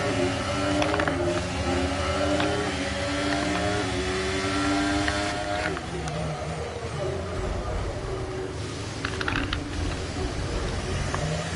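A Formula 1 car engine in F1 23 on the Bahrain Grand Prix weekend, a steady high-pitched whine with rising and falling revs, sustained and fairly loud, with a few clicks and small shifts in tone along the way.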